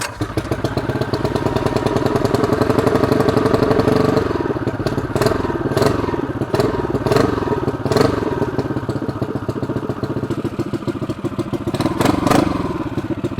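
A custom 225cc racing minibike engine idles and revs with a loud, close, throbbing putter that rises and falls, with clattering thumps scattered throughout and no talk.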